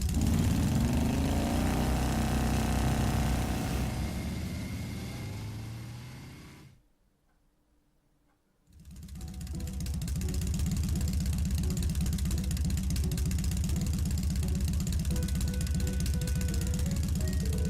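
A motorbike engine in the video game Trails of Cold Steel rumbles steadily and loudly, cuts out for about two seconds, then resumes a droning idle.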